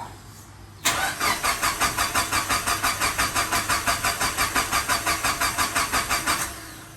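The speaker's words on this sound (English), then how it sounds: "The car wouldn't start after I changed the diaphragm and the fuel pressure regulator." A tuned Mitsubishi Evo engine cranks over and over in a steady rapid rhythm for several seconds without catching after a fuel pressure regulator rebuild, then stops.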